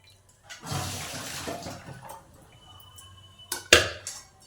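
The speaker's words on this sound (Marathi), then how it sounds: "हे पाणी आता बाजूला टाकून द्यायचं" A brief gush of water drained from blanched amaranth greens being poured away, followed by quiet trickling and a couple of sharp metallic clanks of a pot.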